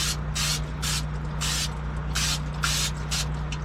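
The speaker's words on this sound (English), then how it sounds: "I'm going to spray my pan with non-stick cooking spray." Repeated short hissing bursts of non-stick cooking spray onto a baking pan, about eight quick sprays in an uneven rhythm over a steady low hum, close and fairly loud.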